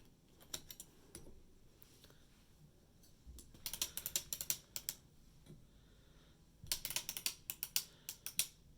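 A circular sock machine being hand-cranked, giving quiet bursts of rapid mechanical clicking and ratcheting at close range, with short gaps between runs and no speech.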